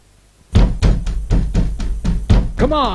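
Knocking on a door: a run of about seven firm, evenly spaced knocks, loud and close, ending as a voice begins calling out.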